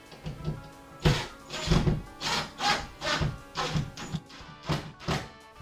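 Screws being tightened into wall cabinets mounted on drywall, heard as a series of about nine close wooden thunks and rubbing creaks spaced roughly half a second apart.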